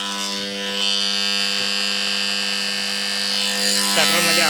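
A water pump motor's starter gives a steady electrical hum with a strong buzzing tone, running continuously and loudly, barely changing over its length.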